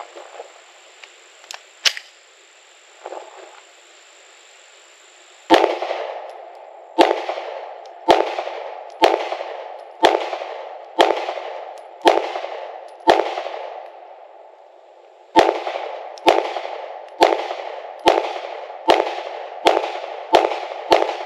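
A SIG P365-FUSE pistol fires at 10 yards, loud sharp cracks in two paced strings of roughly eight and seven shots with short gaps, each shot ringing out briefly, with no talk.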